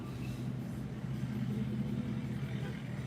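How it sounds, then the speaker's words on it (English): A big truck rumbles low and steady in a Walmart parking lot, a faint continuous engine drone heard from some distance. "Oh no, here comes another truck."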